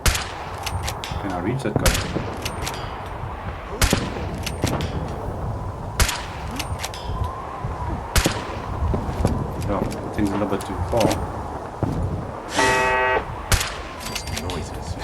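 Automatic turret gunfire during a Fallout 4 settlement battle against the Minutemen: sharp shots crack out in scattered bursts roughly every two seconds, with one rapid rattling volley near the end, all under steady talking.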